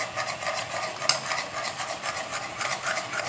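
Egg mixture being stirred in a pan for an egg cauliflower dish, a steady soft scraping and swishing that runs through the whole stretch at moderate level, with no talking.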